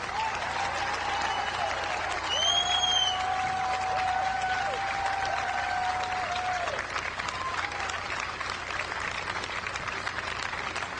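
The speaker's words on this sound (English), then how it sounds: "They deserve our applause." A large audience in New York applauds the victims and heroes of 9/11 with sustained, dense clapping that fills the whole stretch, steady and fairly loud, with a faint whistle rising above it.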